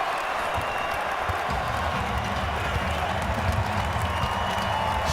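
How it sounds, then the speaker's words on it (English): Crowd in an NBA arena at a Lakers at Bulls game in Chicago gives a standing ovation, a loud sustained roar of applause and cheering that fills the space without a break. "Standing ovation from this crowd."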